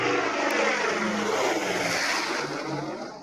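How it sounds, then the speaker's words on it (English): Propeller airplane engine droning steadily and loudly, a dense throbbing roar that fades slightly toward the end. "propeller planes, they're noisy."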